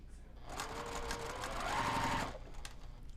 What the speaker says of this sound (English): And this one I'm just sewing on the line.